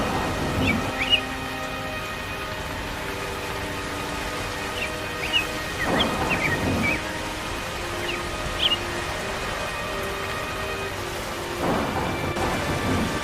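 Cartoon rain falls steadily with rumbles of thunder, a constant hiss broken by several louder rolls, while high musical or bird-like tones sound faintly over the storm.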